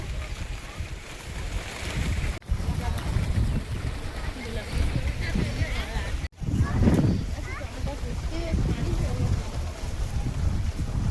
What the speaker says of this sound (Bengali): কত জোরে হাওয়া হচ্ছে দেখো।